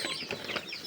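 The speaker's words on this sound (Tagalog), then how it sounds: "yung mga manok ko nag-aantay na rin ng pagkain nila" Chickens, some 45 days old, clucking and chattering close by while waiting for feed, a busy run of short overlapping calls from several birds with no talking.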